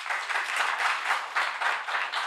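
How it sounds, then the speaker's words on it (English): Audience applause at a UC Berkeley debate, steady dense clapping from a crowd filling the whole stretch at even volume, with no voices over it. "You might want to wait till I'm done before you clap."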